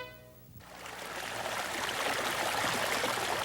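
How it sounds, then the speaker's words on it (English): Steady rushing trickle of water spilling through a beaver dam in the north, continuous and fairly close, building slightly after a brief quieter start. "Water trickling through a beaver dam, a familiar sound in the north"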